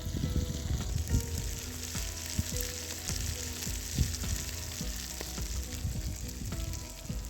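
Bacon and sausages sizzle and spit in a pan over an outdoor fire in the woods for breakfast, a steady close frying hiss with frequent crackles and pops and occasional clinks, no talking.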